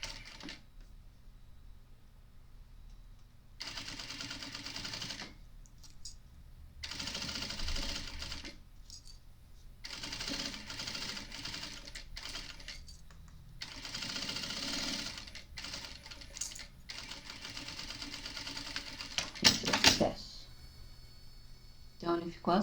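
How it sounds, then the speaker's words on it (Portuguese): Domestic sewing machine stitching a seam on a fabric tote bag, running in several bursts of steady rapid stitching with short pauses between, close and clear, while someone talks between the runs. "vou fazer uma costura aqui de um pé de máquina"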